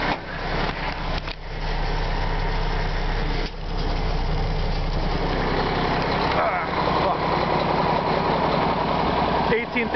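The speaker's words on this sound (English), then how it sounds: "This is the rolloff truck. It's a mack granite, a 2005." A 2005 Mack Granite roll-off truck with a 335-horsepower engine, straight pipe and the PTO engaged idles steadily and loudly up close, a continuous low diesel rumble with brief dips, while someone talks over it.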